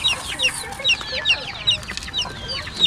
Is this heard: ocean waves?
no